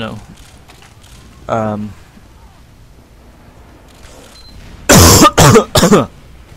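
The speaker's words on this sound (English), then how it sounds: "sorry for coughing then, excuse me." A man coughs in a few harsh, loud bursts close to the microphone, after a brief stretch of his speech and low background noise.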